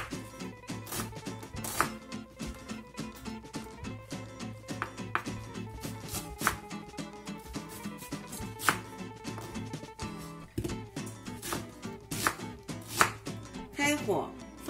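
A knife chops peeled onion into small pieces on a board, giving quick, sharp, evenly spaced knocks that run continuously at close range, with no voices.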